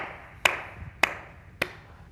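An elderly woman claps three sharp, evenly spaced times at a slow, steady rhythm, each clap distinct against a quiet background.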